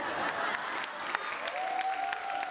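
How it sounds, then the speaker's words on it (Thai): Audience applause at a children's science award ceremony, greeting a student invention for scooping cow dung; dense, steady clapping fills the hall throughout, with a faint tone rising near the end. "ได้รับเสียงปรบมืออย่างล้นหลาม"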